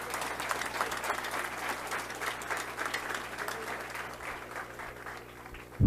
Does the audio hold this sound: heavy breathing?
no